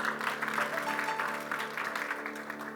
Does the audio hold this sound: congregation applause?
yes